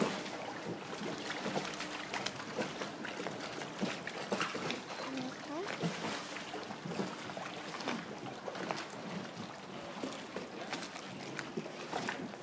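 A boat glides along a canal in Venice, Italy, with a steady wash of water and a low engine hum throughout, even and unbroken.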